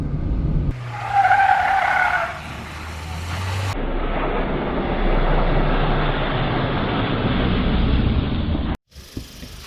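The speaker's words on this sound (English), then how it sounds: "awesome day driving the beast, the petrol beast" A Mahindra XUV700 petrol SUV, a 200 bhp flagship, drives past with a loud steady roar of engine and road noise, a brief rising tone near the start, then a sudden cutoff near the end.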